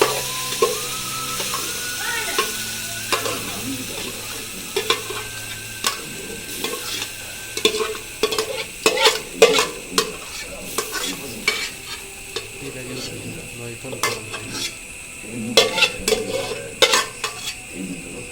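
Butter chicken mixture sizzles in a pan while a spoon stirs it, with repeated clattering scrapes against the metal over a constant frying hiss; a voice is faintly present at times.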